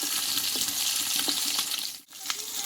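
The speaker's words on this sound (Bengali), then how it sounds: "মাছটা একটু ভেজে নেবো" Two pieces of silver fish fry in a pan with a steady, close sizzle and crackle, scattered with small pops and spatters, briefly dipping near the end before resuming.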